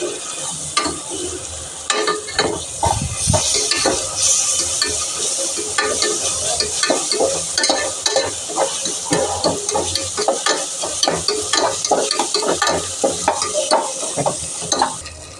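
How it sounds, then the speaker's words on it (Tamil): Ginger garlic paste sizzling and being stirred in a hot pan for chicken curry; a loud, continuous fry hiss with frequent scraping stir strokes of a spoon against the pan, no voices. "இப்போ தேவையான அளவு இஞ்சி பூண்டு பேஸ்ட் ஆட் பண்ணிக்கோங்க. இப்போ நல்லா வதக்கி விட்டுக்கலாம்."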